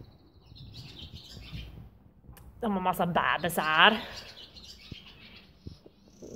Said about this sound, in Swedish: Och så hör man fåglarna kvittra.